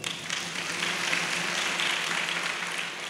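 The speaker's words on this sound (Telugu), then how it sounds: "గట్టిగా చప్పట్లు కొడదాం." Loud, steady applause from a church congregation at a feast celebrating Mother Mary, dense clapping filling the space continuously without a break.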